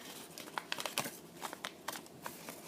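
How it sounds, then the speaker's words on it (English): Paper crinkling softly as the flap of an origami domino box is folded in, a series of faint close crackles and rustles in short irregular bursts, with no talk. "Fold this flap in."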